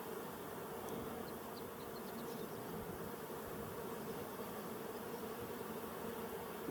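Honey bees buzz around a beekeeper's hive in Colorado, a faint, steady, even drone with no talk, holding a constant hum throughout.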